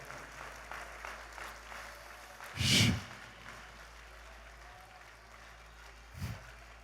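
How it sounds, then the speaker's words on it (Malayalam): A church congregation at a Sunday live worship service bursting into clapping in praise, one short loud burst of applause followed later by a brief smaller flurry, with quiet murmuring around it. "നന്നായിട്ടൊന്ന് കൈയടിച്ചൊന്ന് സ്തുതിക്കാം"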